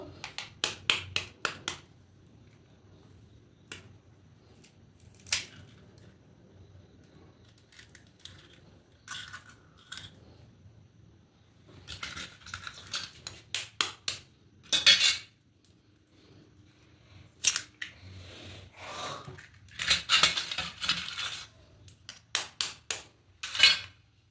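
Three eggs cracked into a bowl while making an egg mixture for tomato paratha, sharp close clicks and taps of shell on the rim coming in scattered bursts, with clinks of the bowl between them and no talk.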